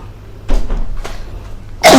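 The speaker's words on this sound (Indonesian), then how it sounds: "Apa ada suara batuk saya?" A few scattered coughs, one near the start and a sharper, louder burst at the end, over a quiet room with a low background hum.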